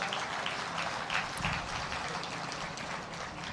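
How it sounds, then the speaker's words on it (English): Sustained crowd applause at an Armenian American Museum groundbreaking ceremony in Glendale, a dense, steady wash of clapping from a large outdoor audience with no gaps. "let's give them a big round of applause"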